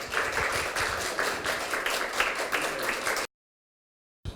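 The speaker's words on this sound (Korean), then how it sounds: "큰 박수 부탁드립니다" An audience at an environmental forum on the climate crisis applauds steadily for about three seconds before the sound cuts out abruptly.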